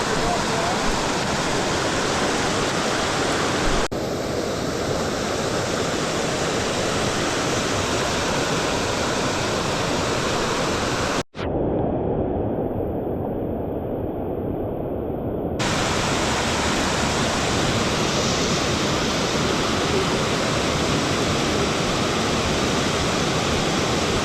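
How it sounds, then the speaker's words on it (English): A waterfall on the Loyalsock Link Trail pours in wind and rain, a loud, dense, continuous rushing roar that fills the scene, with a brief dropout partway through and no clear talk over it. "I don't have nothing marked down for this waterfall."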